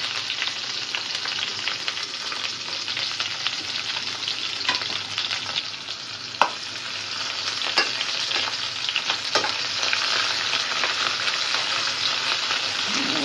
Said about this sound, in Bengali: এগুলো একটু লাল লাল করে ভাজি করে ডালটা দিয়ে দিব